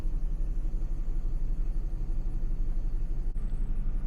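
Chevy truck engine held at high revs in neutral during a fuel cutoff test, a steady, loud droning hum with a constant pulsing rhythm and a brief dip near the end.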